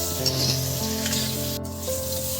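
Potatoes fry in a pan of oil while being stirred, a steady close sizzle with scraping and stirring rubs over it, plus a faint tonal hum in the background.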